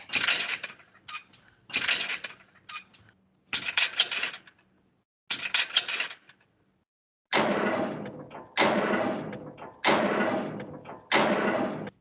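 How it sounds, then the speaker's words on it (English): A series of gates from a sound effects library open and close one after another, each a loud, close metallic clatter or creak separated by short silences, with the later ones longer and heavier, and no voices. "So it does look like they're all original, different sounding gates."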